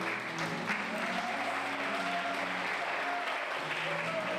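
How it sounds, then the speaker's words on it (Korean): Sustained applause from an audience at the end of a dance performance, dense and steady clapping throughout, with faint voices beneath. "엄마로서 뜨거운 박수를 보냅니다"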